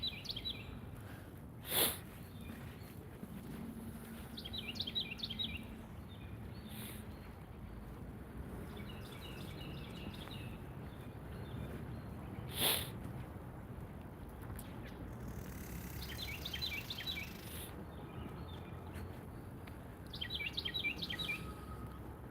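Small birds chirp in short bursts of quick high twitters that recur across the stretch, set against steady wind and outdoor rumble, with a couple of sharper knocks and no talking.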